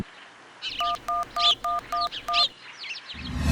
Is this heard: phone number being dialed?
yes